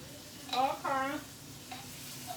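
Garlic stir-fries with a mini spatula for vegan fried rice. A faint, steady sizzle runs underneath while a brief tonal voice-like sound rises twice near the start.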